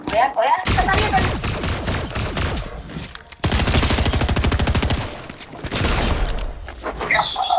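Rapid automatic gunfire from a video game shooter rattles in long, loud bursts, each a dense string of sharp shots, separated by brief gaps and ending in scattered single cracks.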